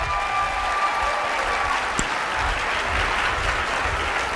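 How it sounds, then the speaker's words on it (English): An audience claps for a speaker leaving the stage at a business presentation, a steady, dense round of applause that fills the whole stretch at an even level without any talking over it. "let's give Bob Gridelli one more round of applause."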